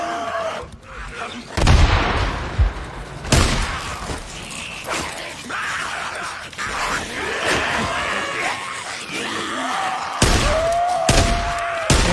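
Grenade blasts and gunfire in the Days Gone survival video game, with several heavy booms and thuds amid continuous game noise, loud and close, over a busy combat mix.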